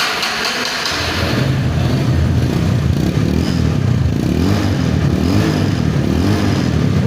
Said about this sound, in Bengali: থার্টি ফাইভের অরিজিনাল সাউন্ডটাই বাইকটার মধ্যে পাবেন এবং সেলফ স্টার্ট